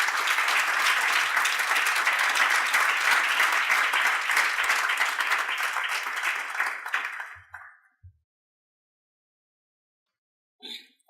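Audience applause at a corporate responsibility awards dinner, a dense steady wash of clapping from many hands that holds for about seven seconds, then fades out into silence, with a brief faint sound near the end.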